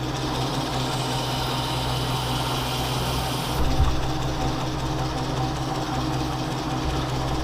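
A metal lathe cuts chamfers on a part during a rotary welding table build, giving a steady, loud machine drone with a constant low hum and bright high whine that shifts and drops partway through, with a brief low thump.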